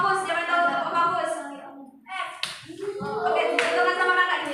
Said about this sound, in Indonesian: Tepuk fokus, siapa yang tahu tepuk fokus?